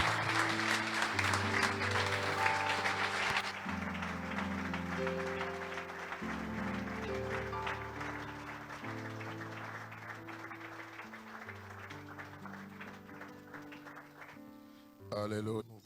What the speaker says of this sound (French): Est-ce qu'on peut accueillir l'homme de Dieu avec les acclamations?